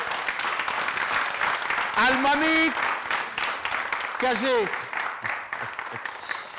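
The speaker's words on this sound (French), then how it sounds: "Merci de faire beaucoup d'applaudissements pour ce monsieur." A studio audience on a Burkina Faso television show set claps in sustained applause while a voice speaks briefly over it, the clapping carrying on after he stops.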